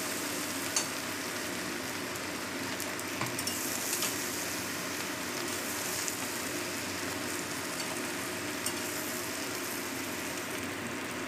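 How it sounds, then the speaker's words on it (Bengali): Young jackfruit and potato pieces frying in oil, with a steady, dense sizzle throughout and occasional soft clinks and scrapes as they are stirred in the pan. "এরপর তেলের মধ্যে দিয়ে দিতে হবে ইঁচড় এবং আলুর টুকরোগুলো"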